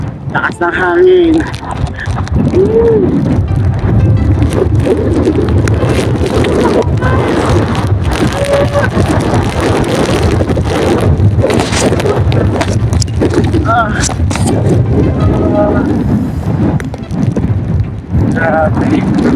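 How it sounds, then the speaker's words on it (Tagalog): Strong mountain wind on Mt. Sembrano buffets the microphone in continuous heavy gusts, a loud rumbling roar throughout, with voices talking and exclaiming over it. "Lakas ng hangin."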